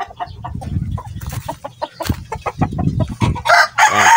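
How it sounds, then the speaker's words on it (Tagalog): Young roosters about four to five months old crow and cluck close by, with several short clucks followed by louder strained crowing toward the end. "yung 4 months old natin going 5 months old mga kamanok"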